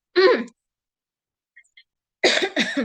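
Two short bursts of coughing, one at the start and a harsher pair near the end, separated by a quiet pause.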